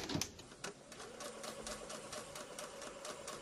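A sewing machine stitches a cloth face mask, running in a steady fast rhythmic whir of needle strokes, close and continuous, fairly quiet.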